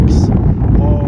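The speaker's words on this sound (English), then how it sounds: "It's a bit windy, so sorry about the noise." Strong wind blows outdoors and buffets the microphone, making a loud, steady low rumble that fills the whole moment, with a voice faintly mixed underneath.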